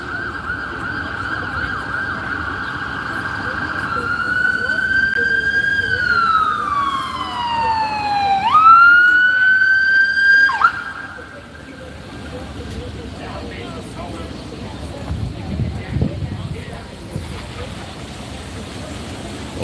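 Ambulance sirens wail along a New York street, from vehicles with New Jersey plates and EMS licenses; a loud rising and falling siren sweeps close by over steady traffic noise and crowd murmur, then cuts off abruptly.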